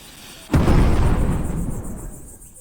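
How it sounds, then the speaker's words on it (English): A loud video-game explosion hits suddenly with a sharp blast, then a heavy rumbling roar slowly fades away over the next couple of seconds, with no talking. "an explosion will certainly liven up your article"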